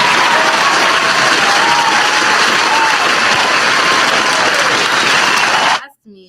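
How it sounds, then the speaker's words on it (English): A round of applause from a crowd, loud dense clapping with some cheering held steady for several seconds before stopping sharply. "Give her a round of applause."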